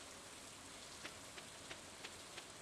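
Rain falling in the Stardew Valley video game, a soft, even, continuous patter with a few faint periodic ticks over it and no voices.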